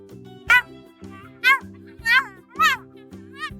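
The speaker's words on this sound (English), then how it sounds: "It's a meerkat." Meerkat calls, a series of about five short, high chirping yips spaced at a steady rhythm over a low sustained tone, fairly loud and close.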